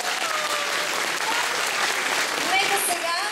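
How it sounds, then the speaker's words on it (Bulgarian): Dense, steady applause from an audience for young ballet dancers at a ballet school anniversary show, loud and sustained throughout, with children's voices and chatter mixed faintly into the clapping. "Точно така, аплодисменти."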